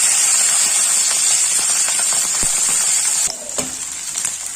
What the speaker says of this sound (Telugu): ముందుగా పచ్చిమిర్చిని వేసి వేయించుకున్నాము